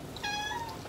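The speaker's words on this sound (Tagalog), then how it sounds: "Siyempre, pag ang pusa maingay, Gutom." A hungry cat gives one clear, drawn-out meow at close range, loud over a quiet room, with no voices.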